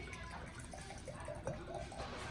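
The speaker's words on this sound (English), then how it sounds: "I can see while I'm pouring it, the wine is super dark" Red Amarone della Valpolicella wine, a 2015 Tinazzi Ca De Rocchi 'La Bastia', pours into a glass with a soft, continuous liquid gurgle over steady background noise.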